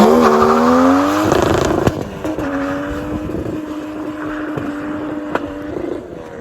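Ford Falcon 4-liter inline-six engine running loud and close, its strong harmonic drone rising in pitch as it revs, then settling into a steady idle with a few sharp clicks and some wind noise, with no one speaking.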